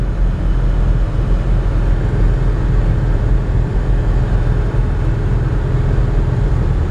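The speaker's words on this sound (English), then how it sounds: "Engine runs great." A 1954 Ford Mainline with a rebuilt engine and three-on-the-tree manual gearbox drones steadily while driving, a constant low rumble with road and cabin noise and no talking.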